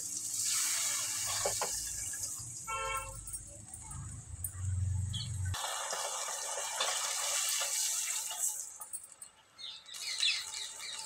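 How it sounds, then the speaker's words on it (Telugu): Water pours and splashes into a hot pan of tempered chillies, dal and mustard seeds, a loud rushing gush that hisses and then settles into bubbling, with faint chirping in the background. "ఇప్పుడు వాటర్ పోసుకుందాం."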